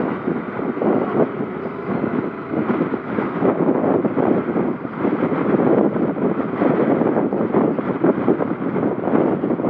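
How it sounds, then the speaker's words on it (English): Steady, broad wind rushing and buffeting past the microphone in the Flinders Ranges, loud and continuous with no pauses, no voices. "Yeah, very windy,"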